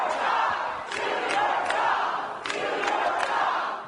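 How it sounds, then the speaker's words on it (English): A town hall crowd boos and chants in unison, a loud, dense roar of many voices with rhythmic swells throughout. "he was booed and the crowd chanted, "Do your job.""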